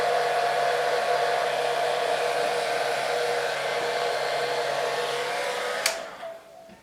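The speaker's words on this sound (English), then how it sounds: "I'll just hit it with the hair dryer to dry a little side" A hair dryer runs steadily and loudly up close, blowing on a painted fake heart to dry it, then switches off near the end and winds down.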